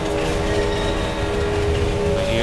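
A train in a video game roars through a tunnel as a loud, continuous rumble with a steady droning hum, close and unbroken throughout.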